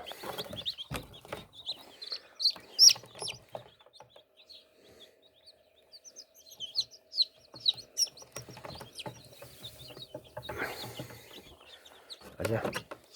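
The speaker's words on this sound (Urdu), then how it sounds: "یہ مرغی کے ایسے بچے ہیں" Young desi chicken chicks chirping and peeping in many small, scattered calls, with hen-like clucks mixed in, fairly faint and continuous, with voices talking now and then in between.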